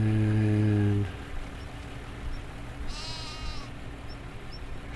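A sheep in a pasture gives a short bleat partway through, fairly close. It follows a loud low engine or machinery drone that cuts off after the first second, and quiet outdoor background noise continues underneath.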